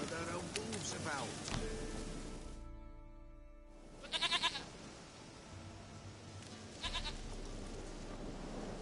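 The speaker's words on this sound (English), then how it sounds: "Goat of mine, dearest, sweetest goat." A goat bleats in a video game on PS4, a few nasal calls up close, with character dialogue spoken around them.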